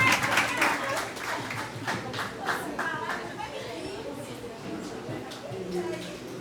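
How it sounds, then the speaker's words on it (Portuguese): Crowd clapping at a book launch event, a burst of hand claps strongest at the start that thins out over several seconds, mixed with chatter and voices talking nearby. "Palmas pra ela!"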